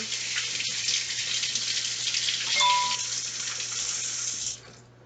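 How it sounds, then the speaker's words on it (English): Eggs are washed under a running tap, a steady close hiss of flowing water that runs for several seconds and then cuts off, with no talking. "I also wash my eggs before I crack them."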